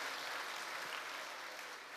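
An audience gives a standing ovation to a tenor at a camp concert event, a steady dense wash of applause filling the hall, loud and continuous throughout with no talking over it.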